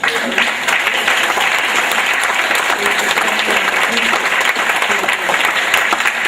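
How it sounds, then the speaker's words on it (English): A crowd at an alumni banquet claps, a loud, continuous roar of applause that holds steady from start to end. "That deserves a round of applause."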